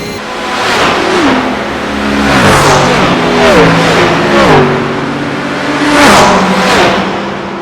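A race car engine at full throttle at Spa in iRacing, loud and close, revving hard with repeated gear-shift drops in pitch and rising whines, continuous with no talking.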